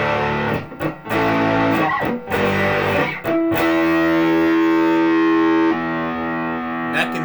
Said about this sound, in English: Now we'll put on some dirt and let you hear what it sounds like with distortion on in all settings.